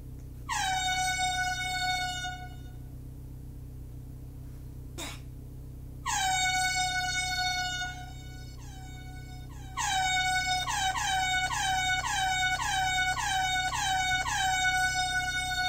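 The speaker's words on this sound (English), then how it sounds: "Do you hear the honk?" Truck air horns blare in long, loud sustained blasts, first in two separate honks, then a rapid run of repeated short honks stacking over a steady engine drone.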